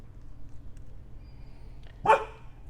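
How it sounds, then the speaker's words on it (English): A single sharp dog bark sounds once, fairly distant and faint, in a quiet garage during brake service and wheel bearing repacking work. "don't mind my dog Harley in the background."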